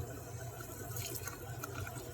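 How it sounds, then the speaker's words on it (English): Water is poured into a simmering potato masala (aloo bhaji) in a pan, a faint, soft splashing and sizzle in a kitchen with no talk. "Looks like it needs a little bit more water."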